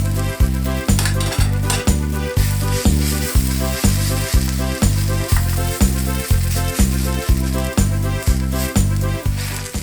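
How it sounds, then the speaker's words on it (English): Rosti hash browns frying in a pan, a steady close sizzle under a loud repetitive rhythmic beat that pulses evenly throughout. "And fry the other side for about 2 minutes."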